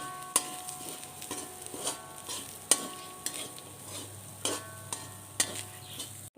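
Grated coconut roasting in coconut oil in a pan, stirred with sharp periodic scrapes and knocks of the spoon over a faint sizzle, close and clear.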